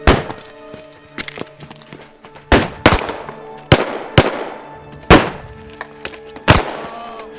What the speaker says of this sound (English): Sergeant, you and Jefferson provide cover fire. But sir, Open fire!